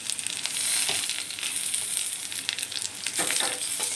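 Chopped ginger, garlic and tomato fry with browned onions in a pan, giving a constant bright sizzle broken by short scraping stirs.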